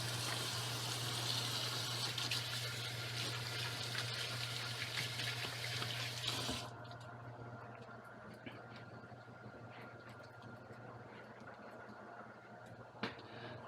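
Hands being washed under a running kitchen tap: a steady, close rush of water that cuts off abruptly about halfway through, leaving a quiet room hum and a small knock.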